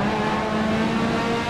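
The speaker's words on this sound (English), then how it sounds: "It's hard to keep the car from sliding sideways. A lot of four-wheel drift here." A P4/5 Competizione race car drifting at Mugello in Assetto Corsa, a loud steady engine drone with a sustained tire squeal tone, close and continuous.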